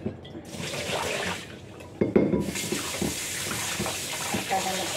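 Tap water runs steadily into a cooking pot in a home kitchen, filling it for boiling pasta, a continuous splashing rush with a brief louder surge midway, close by and without talk.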